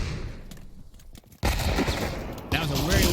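Gunfire in the Pavlov VR shooter during a competitive match with AKs and M4s: loud, dense bursts of rifle fire that swell sharply partway through and keep going, with brief voices mixed in.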